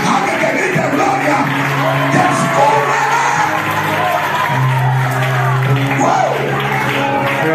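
Church congregation shouting glory during a Spanish-language service, a loud, dense crowd of yells and cheers that rises and swells continuously throughout.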